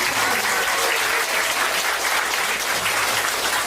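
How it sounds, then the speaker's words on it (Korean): Loud, dense, continuous applause from an audience at a hall opening ceremony after a session of presentations, a steady even roar of clapping without talk. "멋진 회랑의 분위기를 만들어주신 네 분께 다시 한번 큰 박수 부탁드립니다"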